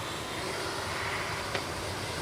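FMS Avanti S 90mm electric ducted-fan RC jet flying overhead, a steady airy whine and rush that holds constant throughout, with a brief sharp tick near the end and no voices.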